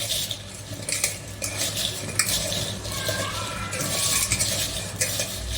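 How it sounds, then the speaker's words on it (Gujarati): Raw mango pieces for a sour Kathiyawadi pickle are worked together with salt by hand, a steady close rustling, squishing and scraping texture that goes on without pause and without voices. "આપણે આ બધું હાથથી જ મિક્સ કરી લઈશું"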